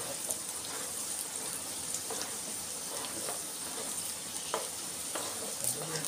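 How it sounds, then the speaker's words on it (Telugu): Indian gooseberries (amla) sizzle as they are stir-fried in a pan for pickle, with a steady frying hiss and occasional scraping stirs, close and fairly quiet throughout. "ఈ రాసుసిరికాయలు ఇలా రౌండ్గా తిప్పుతూ ఫ్రై చేసుకోవాలి"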